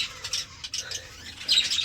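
Baby birds and adult birds together outdoors, a few short high chirps and tweets in quick irregular bursts, moderately close with soft background noise.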